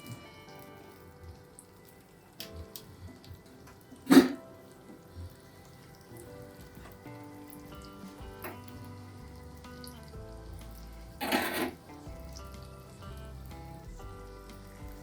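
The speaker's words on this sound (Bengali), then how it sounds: "এবার আমি একটা একটা করে তেলে ভেজে দেবো।" Crunchy evening snacks fry one at a time in oil over low heat, giving a soft, continuous rain-like crackle with two sharper knocks from the pan along the way.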